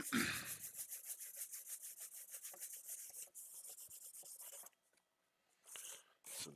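An Xbox case gets light scuffing before repainting: rapid, close back-and-forth rubbing strokes, then a short pause and a few more scuffing bursts.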